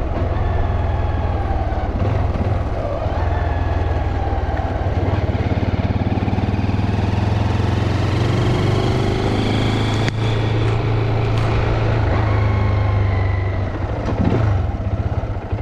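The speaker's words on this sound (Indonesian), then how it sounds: "RPM pula bunyi berdesing tu." Sym Espada VF3i scooter engine running at high RPM with a 21T primary gear, a steady loud drone with a rising whine layered over a low rumble, continuous throughout with no talking.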